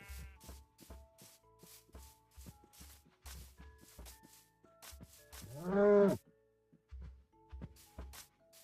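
A cow in a video game gives a single loud, drawn-out moo close by, among soft repeated footsteps, rustling and small pickup tones.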